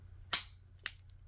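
Dry-fire trigger pulls on a CZ 75 P-01 AL pistol: a crisp metallic snap, then a second, lighter click about half a second later, close and isolated in a quiet room.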